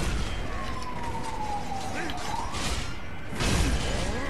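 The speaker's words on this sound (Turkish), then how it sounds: "Evet, ambulans da geçiyor buradan." Ambulance siren passing by outside, a faint wailing tone sliding down in pitch under a noisy indoor background, with a burst of louder clatter near the end.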